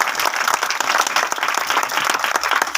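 A church congregation clapping loudly during a Hindi-language worship service, dense continuous applause from many hands close by, sustained throughout without pause.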